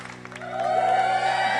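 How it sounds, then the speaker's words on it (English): A short round of applause rises from a small audience beneath a lingering musical tone, building slightly and holding to the end. "Oh, here you got a round of applause then."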